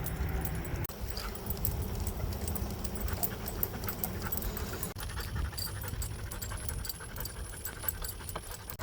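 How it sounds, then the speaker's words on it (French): Dogs pant rapidly and continuously at close range while walking on a cool early-morning hike, with footsteps and faint jingling of tags underneath. "Les chiens, je peux vous dire que depuis tout à l'heure, ils sont motivés."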